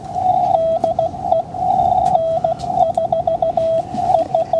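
Amateur radio Morse code CW signal: a steady single-pitch tone keyed on and off in dits and dahs over a bed of radio static, clear and fairly strong throughout.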